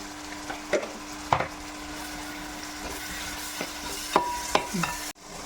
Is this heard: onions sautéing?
yes